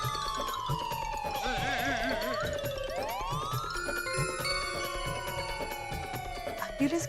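A wailing ambulance siren sweeps up and down in pitch, loud and fairly close, with faint voices and background noise underneath.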